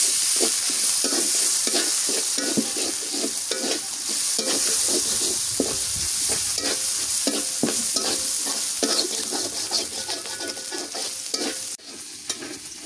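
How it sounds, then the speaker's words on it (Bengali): Green chilies and onion sizzle in oil in a wok while a spatula scrapes and stirs in a rapid, regular rhythm, close and loud with no talk, the stirring easing toward the end. "এবার কাঁচা মরিচ আর পেঁয়াজ দিয়ে দিই এই কড়াইয়ের মধ্যে,"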